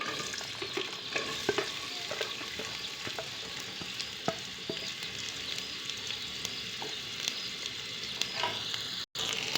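Sliced onions fry steadily in hot oil for a tinda masala, giving a continuous close-up sizzle with frequent small pops and crackles and occasional stirring clinks, with no voice over it.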